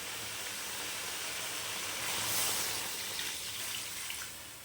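Water poured into a pan of mutton curry, a steady hissing broadband wash that swells briefly in the middle and then settles, alone without talk.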